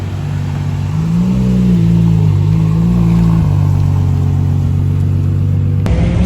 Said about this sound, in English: all the cars are leaving now and the parade is going to start